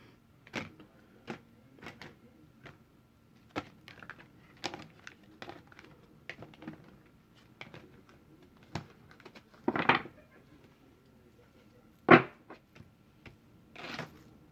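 A tarot deck being cut by hand gives a run of soft papery taps and flicks at an irregular pace, with a few sharper card slaps standing out near the end, close and quiet, with no talking.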